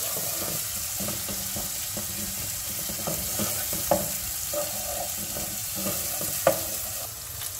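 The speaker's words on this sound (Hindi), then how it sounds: "लहसुन अदरक डाल के इसको हम भूनेंगे ताकि इसका ज़रा कच्चापन ख़त्म हो" Garlic and ginger frying with onions in a pan, a steady close sizzle with scattered stirring scrapes and a couple of sharper clinks, no talking.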